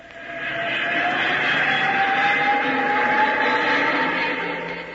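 A vehicle in a radio drama accelerates with a rising, steady whine and hum that swells in, holds loud and even, then fades slightly at the end.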